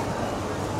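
A train rumbles past at Shin Okubo station in Tokyo, a brief, steady mid-level roar of wheels and carriages with no clear beginning or end.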